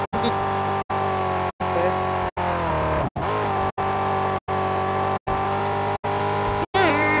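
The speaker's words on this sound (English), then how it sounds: "Jesus, a loud sounding car." A loud car engine in the Mad Max video game roars steadily at close range, broken by regular brief dropouts, with tonal revving and pitch sweeps throughout.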